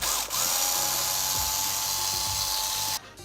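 A power driver backs screws out of an ARRMA Talion V3 RC car, one continuous close, loud high-pitched whirr that holds steady for about three seconds before cutting off.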